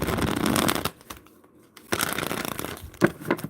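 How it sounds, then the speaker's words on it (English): Tarot cards riffle-shuffled in close, dry papery bursts, with a brief pause before a second run of shuffling and a few sharper snaps. "One more shuffle, y'all."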